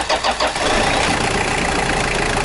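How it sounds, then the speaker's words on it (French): A car engine cranks and catches with help from a JFEGWO 8000 A jump starter booster, then settles into a steady, loud idle right up close, with no talking. "Et voilà, le moteur démarre sans aucun souci."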